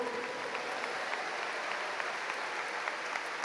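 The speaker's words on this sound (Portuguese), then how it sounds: "bata suas palmas ao Senhor" A church congregation claps during a sermon, a continuous, moderately distant patter of many hands with occasional sharper claps standing out, steady throughout.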